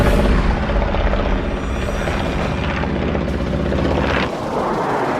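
A German Me-262 jet fighter in combat, a loud continuous roar of aircraft engine and rushing air with a heavy burst near the end, no voices.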